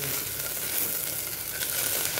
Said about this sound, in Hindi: अब पूरी तरह से प्याज को ब्राउन करेंगे।